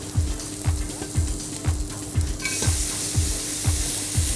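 Garlic dropped into melted butter in a pan: a rhythmic series of regular knocks from stirring under a steady sizzle that grows brighter and louder midway, close and alone without talk.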